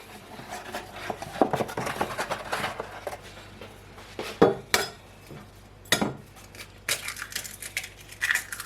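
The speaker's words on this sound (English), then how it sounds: "so we just beat an egg, whisk, give that a really good whisking" A beaten egg whisked in a bowl for bread pudding, heard as a series of clinks and scrapes of utensil against dish, irregular and fairly close, with louder knocks now and then.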